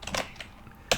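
Someone types code on a computer keyboard in short bursts of crisp key clicks, with brief pauses between strokes and a sharp final tap, close and clear with no talking.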